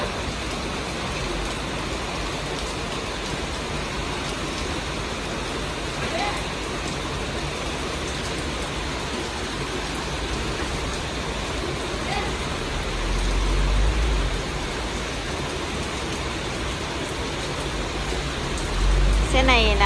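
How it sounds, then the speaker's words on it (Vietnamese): Heavy rain drums down in Củ Chi with a constant broad hiss, with faint traffic noise mixed in and a slight swell near the middle and end. "Mưa lớn luôn mọi người, ở Củ Chi mưa lớn luôn."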